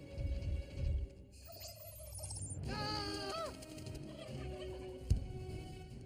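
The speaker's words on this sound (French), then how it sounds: "Genre dindon." Turkeys gobbling in an animated film, a warbling gobble rising clearly over background noise, with other faint bird sounds and a sharp knock later.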